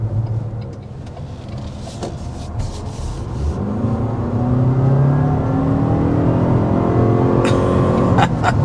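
A 2024 Toyota RAV4 Prime plug-in hybrid SUV's engine builds from a low hum into a rising, strained roar under full-throttle acceleration, heard from inside the cabin.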